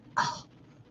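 A single short cough or throat-clearing burst, close and moderately loud, followed by quiet.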